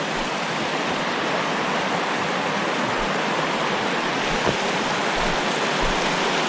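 River water rushing steadily at Fall Creek, a continuous broadband roar with no pauses, loud and close with no voices.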